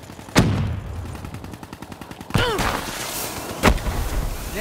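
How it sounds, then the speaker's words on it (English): Gunfire in the video game Call of Duty: Black Ops III: sharp, loud single shots and a rapid burst of automatic fire, with ringing tails and impacts, close and punchy, mixed with game sound effects. "Then I shoot."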